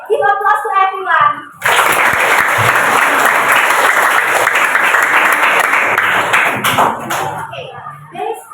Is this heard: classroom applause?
yes